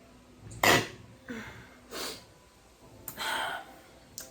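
A person sneezes once with a sharp, loud burst, followed by a few quieter breathy snorts and sniffs, close to the listener with no talking.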